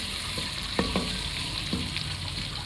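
Onions sizzle and fry with ginger garlic paste in a pot, a steady broadband hiss with a few soft scraping stirs and light clinks, close and continuous with no talk.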